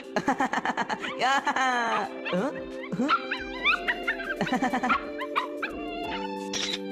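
Cartoonish dog yips and barks from a Hindi-dubbed Doraemon cartoon, several quick bursts mixed with whimpering, over a busy musical background with some voices.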